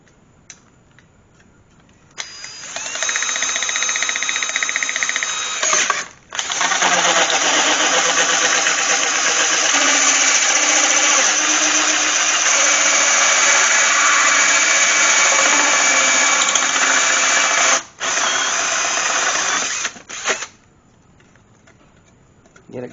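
A drill bores holes through a fabricated throttle bracket, a loud, steady whine running about fifteen seconds with brief pauses near the start and end, close and alone.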